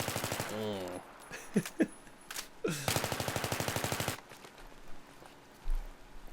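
Automatic gunfire from a weapon in Battlefield 3 rattles in rapid bursts, with one long sustained string of shots in the middle and a few shorter volleys. A voice talks briefly over it.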